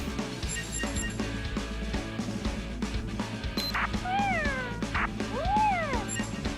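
Cat meowing in the video game Tokyo Twilight Ghost Hunters, two drawn-out rising and falling meows over steady game music with rhythmic thumps and bright electronic effects.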